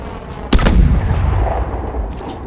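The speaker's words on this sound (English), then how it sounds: "Toss a threat grenade." Threat grenade from Call of Duty: Advanced Warfare going off in a sudden, heavy blast, then a rumbling decay and a faint metallic clatter near the end.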